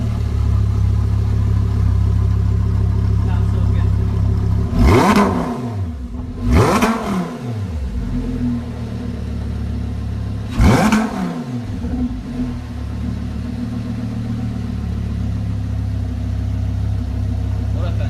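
A car fitted with a full titanium exhaust system revs hard three times, each sharp rise and fall over a steady rumbling idle, loud and close in a repair shop.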